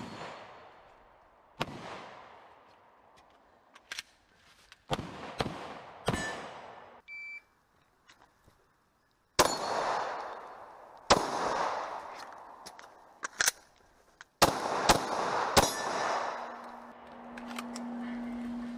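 Pistol shots ring out during IDPA-style practice on targets at 10 yards, sharp loud reports in small groups with gaps between them, including a quick pair, and a short electronic beep partway through.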